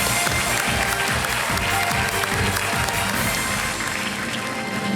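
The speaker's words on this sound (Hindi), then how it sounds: "ताली बज गई है" A studio audience at a Kaun Banega Crorepati quiz show taping breaks into loud, sustained applause, dense continuous clapping that fills the whole stretch without pause.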